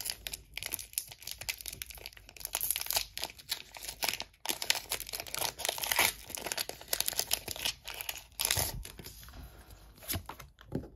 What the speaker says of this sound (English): Pokémon opening of two packs of Temple Forces.